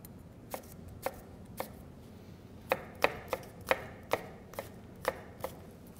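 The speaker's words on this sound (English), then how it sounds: "I'm going to cut it into similar size of my radish." A knife chopping an apple into chunks on a cutting board, about a dozen crisp, close thuds falling in an uneven rhythm, sparse at first and then quicker.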